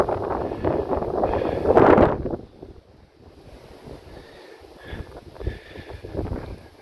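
Wind gusting in the open air in the Vosges countryside, buffeting the microphone hard for the first two seconds, then easing to a softer, uneven rush with small gusts. No one speaks.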